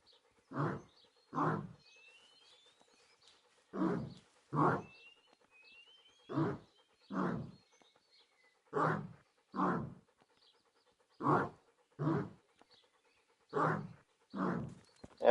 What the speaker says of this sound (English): strange howling dog over here.